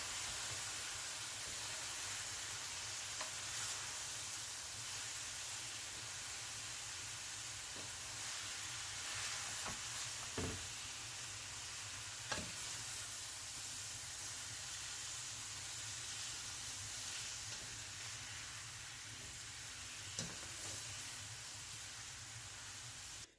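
Green beans and onions sautéing in olive oil give a steady, close sizzle and hiss for the whole stretch, with a few sharp clicks of stirring scattered through and no talk.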